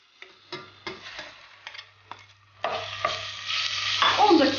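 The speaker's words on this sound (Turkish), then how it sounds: "Biraz ısınınca 300 gram kuzu kuşbaşıyı ekliyoruz." Cubed lamb, 300 grams, hits a pot of warmed sunflower oil and starts frying, a steady close sizzle that swells and grows louder after a few light knocks and stirring clatters at the start.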